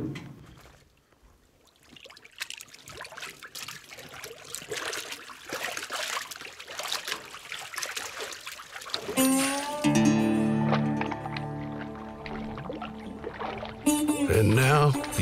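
Water in a full horse trough trickles and sloshes as a bear hide is soaked and worked by hand, quiet at first and growing busier, with music coming in over the later part.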